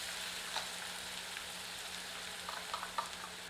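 Ground onion fries in hot oil with asafoetida and cumin over medium heat, a steady soft sizzle with occasional faint pops and stirring scrapes, close and alone.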